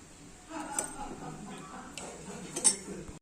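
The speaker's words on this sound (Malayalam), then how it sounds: "അത് നല്ലതുപോലെ ഇളക്കി." Mutton chops gravy stirred in a pan, quiet scraping and a few metallic clinks of a spoon against the pan over a short stretch.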